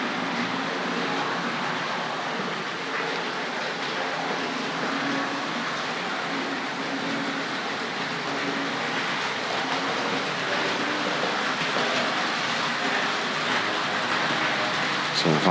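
A Tri-ang Hornby R.357B Class 31 model locomotive runs steadily on model track near a turntable, giving a continuous close whirring rumble with faint rail clatter and no talking.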